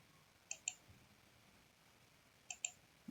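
Two quick pairs of computer mouse clicks, sharp and close, sound about two seconds apart during AutoCAD drafting over a quiet background.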